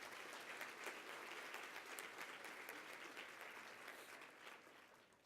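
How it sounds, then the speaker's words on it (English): Audience applause for a woman honoured at a Hispanic women's conference and awards luncheon, a steady, dense clapping from a large seated crowd lasting several seconds, moderately distant and fairly soft. "Please, a round of applause for Samantha."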